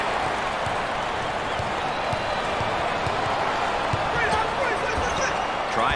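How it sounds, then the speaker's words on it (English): A large video-game basketball crowd roars steadily and loudly throughout a college conference championship game, with scattered ball bounces and faint claps mixed into the din. "The crowd is thunderous."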